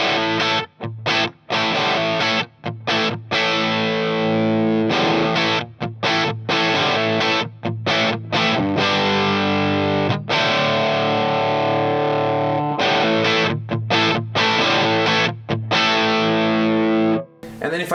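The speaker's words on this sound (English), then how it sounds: "this kind of sounds like a driven JDM 45 or maybe a 50 watt plexi." Electric guitar through a blue Marshall 30th Anniversary amp head in mode A with the gain cranked, giving a thick, distorted tone. Chords are sustained and chopped by short stops, loud and close throughout, with no talk.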